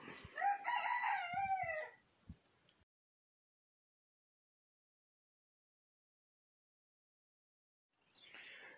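A rooster crows once, close and loud, in a new henhouse, followed by a long silence. A faint clucking or scratching sound returns briefly at the very end.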